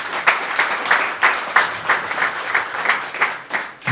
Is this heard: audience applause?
yes